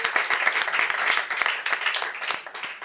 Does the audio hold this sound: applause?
yes